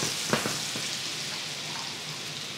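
Untoasted almonds fry in butter in a skillet beside trout, giving a continuous gentle sizzle with a couple of light clicks near the start as they drop in. No one speaks.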